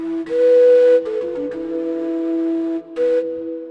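A sampled Moseno flute from a virtual instrument library plays smooth, sustained legato notes that glide into one another, clear and breathy, with no other sound.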